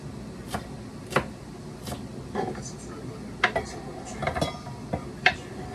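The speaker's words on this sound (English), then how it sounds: "I have some green onions, which I'm gonna just finely chop as well" A knife finely chopping green onions for tabbouleh in an RV kitchen: irregular, sharp, close taps at an uneven pace over a low steady background hum.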